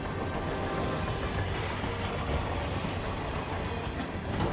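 Moving train cars in the Hitman 3 video game, Carpathian Mountains level, giving a steady rumbling roll with rhythmic wheel clatter that stays close and constant throughout.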